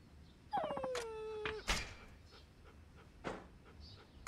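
A dog in the game Like a Dragon: Ishin whimpers with a falling whine, then gives short panting breaths and brief yelps, quiet and intermittent against a low background.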